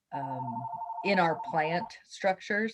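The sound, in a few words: phone ringing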